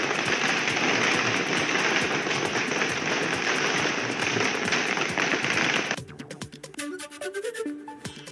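Dense firecrackers burst in a rapid, continuous crackling barrage outside a BJP leader's house during a celebration, loud and sustained before cutting off abruptly and giving way to music.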